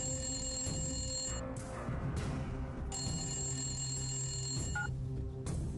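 A telephone rings in a room, its electronic bell sounding in repeated bursts separated by short pauses, fairly faint and set against low background noise.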